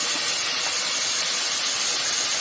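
Chicken pieces frying hard in hot oil with ginger garlic paste, a dense continuous bright sizzle and hiss, loud and steady with no pauses and no voices.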